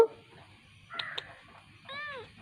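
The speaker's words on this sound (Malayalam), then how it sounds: "എന്തിനാ കരയുന്നേ കുഞ്ഞു എൻ്റെ വീട്ടിൽ വന്ന് കയറി പൂച്ചയാണ് കേട്ടോ" A small kitten meows a few times, thin high cries separated by quiet pauses, fairly close.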